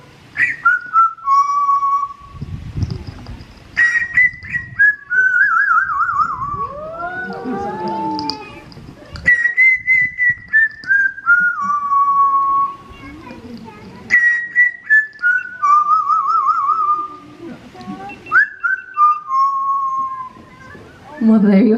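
A bird at African Lion Safari in Cambridge, Ontario whistles an improvised tune in several phrases of rising and falling notes, loud and close, with short pauses between the phrases.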